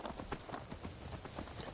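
Horse hooves clip-clop steadily in Skyrim, a quick regular trotting rhythm of soft thuds repeating throughout, moderately close and alone without speech.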